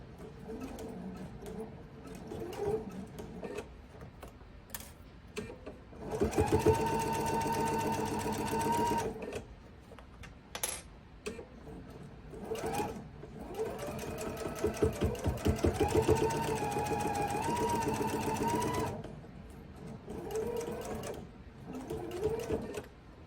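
A sewing machine stitches a seaside quilt block seam in two sustained runs of steady whirring, stopping and starting between them, close and clear with light handling noises in the pauses.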